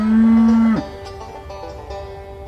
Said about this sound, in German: 30 weitere Galloway-Kühe auf die Insel Lühesand